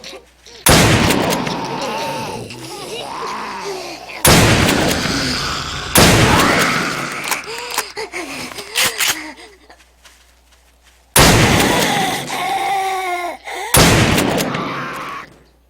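Gunfire in the survival game 7 Days to Die rings out in several loud, sharp bursts separated by brief gaps, with a voice talking between and over the shots.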